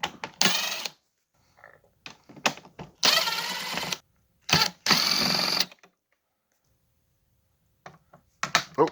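Screws are backed out of the rear speaker grill of a 1991 Honda Accord, heard as several short, close bursts of whirring from a power driver separated by quiet gaps.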